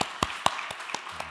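Church congregation at a Korean Sunday worship service, heard as a handful of distinct, separated hand claps spaced irregularly, fairly close and sharp rather than a full sustained round.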